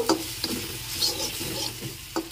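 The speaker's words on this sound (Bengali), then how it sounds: "এখন মশলাটাকে আরও ভালো করে 2 মিনিট কষিয়ে নেব, তেল ছেড়ে আসা পর্যন্ত।" Spice paste for a Bengali tilapia fish curry fries and is stirred in oil in a pan, a soft sizzle punctuated by scraping stirs at irregular intervals, fairly quiet and without talk.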